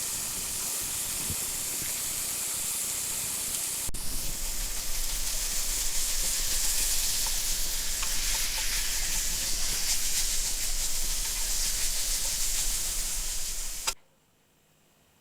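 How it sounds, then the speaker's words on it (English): Breakfast sausage sizzles in a pan over a campfire, a loud, even hiss that holds steady and then cuts off sharply near the end. "Going in with breakfast sausage. And that is the sound that you definitely want to hear."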